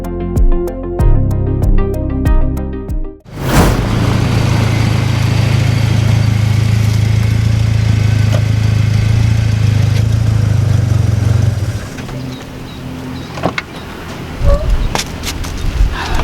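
A 1989 Suzuki Forsa GLX car engine runs steadily with a low, constant hum for most of the clip, preceded by a short burst of rhythmic knocking and followed by quieter clicks.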